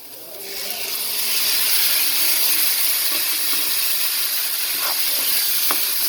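Tomato puree hitting a hot pan of browned onion for a chickpea masala curry: a steady, loud hiss and sizzle swells up quickly and holds, with faint clicks and stirring noises.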